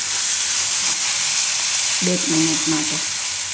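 Green paste gravy frying in hot oil for green urad dal in a Gujarati kitchen, giving a steady, loud close sizzle throughout, with a brief spoken phrase partway through.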